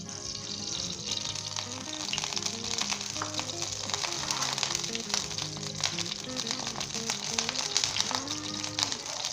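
Mustard oil heating in a pan over a medium-high flame, giving a steady, continuous sizzle and bubbling hiss throughout, with music playing underneath.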